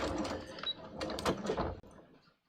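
A sewing machine runs a straight seam across a skirt waistband at a stitch length of 3, a steady mechanical whirr lasting about two seconds before tapering off, up close and without speech.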